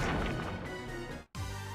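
A boulder shatters under Rock Smash in Pokemon Omega Ruby: a loud crunching smash fills the first second, a short silent gap follows, then a fresh burst of game sound resumes.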